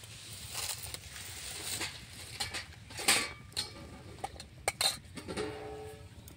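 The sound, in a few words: covering the cake pan with a plate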